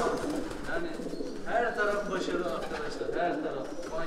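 Racing homing pigeons coo in soft, repeated low calls close by, with a voice talking over the birds at times.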